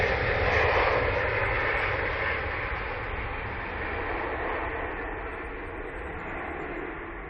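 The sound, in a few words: Finnair airplane to Helsinki at Manchester Airport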